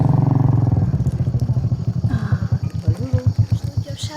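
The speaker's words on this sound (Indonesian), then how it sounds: "Kira-kira cuma naik motor." A motorcycle engine idles and revs close by with a rapid pulsing putter, slowing into a throbbing rhythm as it settles.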